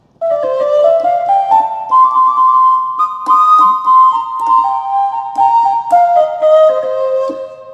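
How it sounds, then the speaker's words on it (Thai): A Roland SV-800 keyboard plays its khlui patch, a loud, breathy Thai bamboo flute tone carrying a sliding, ornamented melody over a soft rhythmic accompaniment, continuous throughout. "แล้วก็เสียงคลุย"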